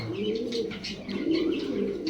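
White Bombay pigeon cooing nearby, a low, throaty, rolling coo repeated steadily over two seconds, with faint higher chirps mixed in and no talking.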